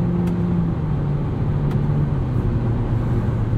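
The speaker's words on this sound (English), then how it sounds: "There is a little bit of wind noise at speed too." Steady wind and road rush fills the cabin of a 2022 Mitsubishi Eclipse Cross SEL 4WD with a turbocharged 1.5-litre engine at speed, a constant low drone with a faint engine hum underneath.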